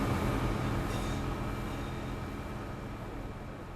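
A train in Train Sim World 4 rumbles past in a steady low roar with a faint hum, slowly fading over a few seconds.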